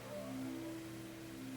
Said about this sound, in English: That's my phone. If you can hear that, that's my phone.